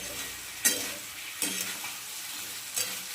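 Dry chilli chicken sizzles in a pan under a continuous bright hiss, with three distinct stirring scrapes at spaced intervals.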